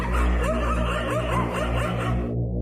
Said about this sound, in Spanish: El ruido de perros peleando despertó a mi esposa y a mí.